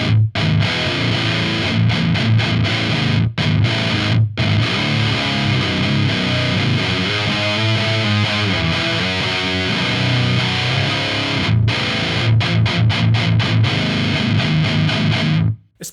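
A thick, heavily distorted electric guitar with a Corrigan F*ckbucker high-output pickup plays sustained chords and riffs, loud and continuous, with a couple of brief pauses.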